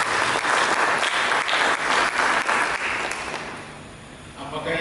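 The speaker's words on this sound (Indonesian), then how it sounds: "Berikan tepuk tangan bagi Yesus." Church congregation applause during a sermon, a full, steady burst of clapping for about three seconds that tapers off as a voice starts to speak.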